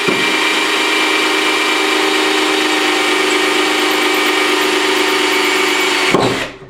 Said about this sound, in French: Voilà, là le trou est fait, je l'agrandis un petit peu